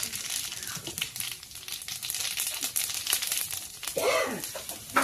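Cumin seeds sizzle in hot oil, the same oil left from frying fish, at the start of a taro curry: a steady, close, crackling hiss that runs throughout, with a brief swell and some faint voice-like sound near the end.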